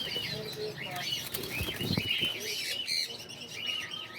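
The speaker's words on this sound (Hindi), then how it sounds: "उसके साथ हमारे पास एक ग्रीन रिंग नेक का ब्रीडर मेल पड़ा हुआ है" A green ring-necked parakeet breeder male among pets for sale, wings flapping and fluttering with short chirps close by, over busy background noise.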